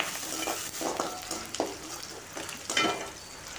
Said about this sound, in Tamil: கொஞ்சமாக கருவேப்பிலை போட்டு நல்லா வதக்கிக்கலாம்